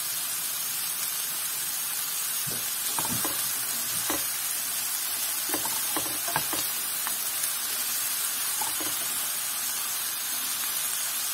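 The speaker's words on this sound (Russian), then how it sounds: "Они слегка поджарились, яблоки." Apples fry in a pan with a steady, bright sizzle and hiss, broken by a few scattered clicks and scrapes of stirring, close and without talk.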